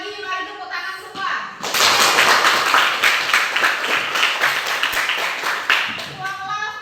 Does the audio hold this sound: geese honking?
no